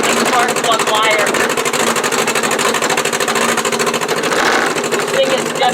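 A 1959 Morris Minor 1000 engine running close and loud with a spark plug wire fault, a rapid uneven mechanical chatter that stumbles and misses throughout, with voices speaking over it.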